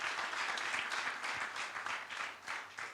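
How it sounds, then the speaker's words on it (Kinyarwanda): Audience applause for a young Rwandan and Burundian girl called to the front at a ceremony, a steady sustained burst of many hands clapping at moderate volume with no talk over it. "mu muha amashyi ndababwira impamvu."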